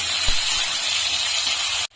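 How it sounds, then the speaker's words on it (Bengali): Onions frying in a pan give a continuous loud sizzle and hiss close by, steady for about two seconds before cutting off abruptly. "পেঁয়াজটা এখন লাল লাল করে ভেজে নিতে হবে।"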